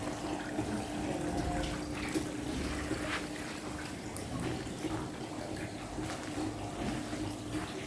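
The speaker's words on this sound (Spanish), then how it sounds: "Aquí tenemos una linda cascada." A small decorative waterfall at a hotel splashes and rushes in a steady, even wash of water. It sounds close and moderately loud, with no voices.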